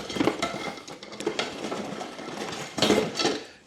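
Loose metal hose clamps rattle and clink together as they are handled, a busy run of small jingling knocks with a louder cluster near the end.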